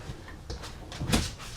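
A few soft wooden knocks and slides as drawers are pulled out and pushed shut, in a quiet room inside a 2025 Jayco North Point 381CKRE fifth-wheel RV.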